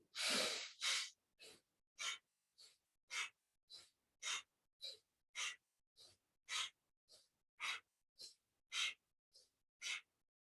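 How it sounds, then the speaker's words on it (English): Pranayama yoga breathing, heard close and alone as a steady run of about seventeen forceful, evenly spaced breaths through the nose, each a short airy rush separated by silence. "Inhale, exhale."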